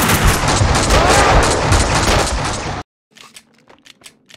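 Bursts of gunfire from the video game Max Payne 2, a dense, loud volley of rapid shots that cuts off abruptly, followed by faint scattered sounds.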